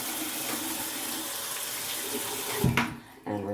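A bathroom tap runs steadily while a toothbrush is rinsed under it, a continuous close hiss of water that briefly surges and splashes near the end, then drops and resumes.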